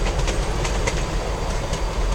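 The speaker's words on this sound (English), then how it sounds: "that was round 2 of the Tweetsie train crossing over Dead Horse Trestle" Tweetsie Railroad heritage train in Boone, North Carolina rolling across the Dead Horse Trestle, a steady close rumble of railcars with rhythmic clickety-clack of wheels over rail joints, no voices.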